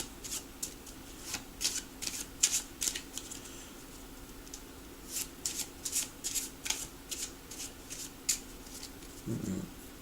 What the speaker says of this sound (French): On peut même remélanger.